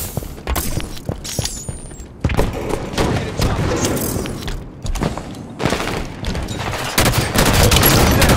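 A video game team arena firefight with repeated loud gunfire bursts, thumps and mechanical clicks over several seconds, including a grenade thrown into the fight, with little talk.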